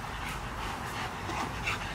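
Soft, close puppy whimpers and panting in short breathy bursts, faint and continuous with no talking.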